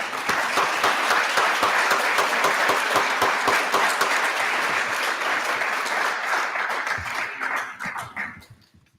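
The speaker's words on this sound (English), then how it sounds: "Let's give everybody a round of applause." An audience at a Law Day event applauds in a dense, sustained burst of clapping that fades out over the final seconds.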